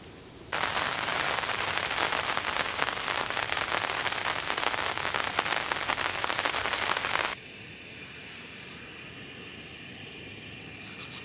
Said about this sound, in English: It rained a fair bit.